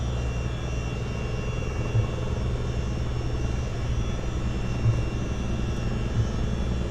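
A Boeing CH-47D Chinook twin-rotor helicopter in a flight simulator game spools up for takeoff, giving a steady, loud, low rotor-and-turbine drone that holds evenly throughout with no voices.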